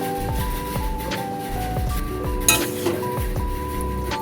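A spoon scrapes and clinks against a pan while cabbage and prawn curry is stirred after ghee is added, with the gas turned off; steady kitchen clatter and a faint hum run underneath.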